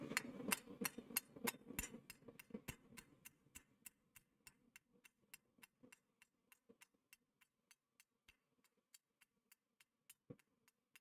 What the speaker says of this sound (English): I'm actually going to switch to a lighter hammer for all this planishing stuff.